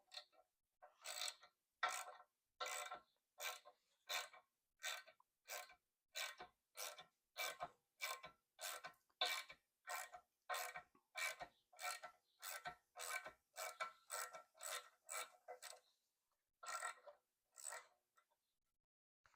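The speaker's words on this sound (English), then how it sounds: "I got a ratchet sitting here to make life a little bit easier." A hand ratchet clicks in regular strokes while backing out a broken-off bolt, each crank a crisp rasping burst repeated about twenty times, close and alone with a brief pause near the end.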